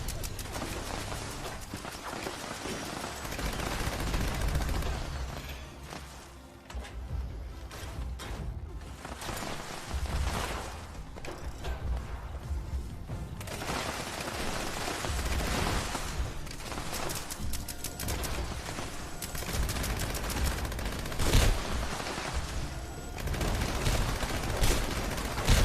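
Gunfire in the video game Fallout 76 rattles through a dense, continuous wash of game noise, with sharper bursts standing out at intervals across the whole stretch.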